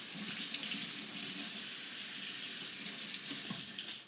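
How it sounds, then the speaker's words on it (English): Steady hiss of tap water running into a kitchen sink during hand washing while baking chocolate chip cookie bars, close and continuous with no talking. "And now I'm going to wet my finger once I wash my hands."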